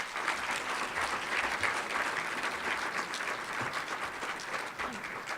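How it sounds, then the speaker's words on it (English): Sustained audience applause at a veteran appreciation dinner, many hands clapping steadily and densely at moderate loudness for several seconds with no talk over it. "Let's give her another round of applause."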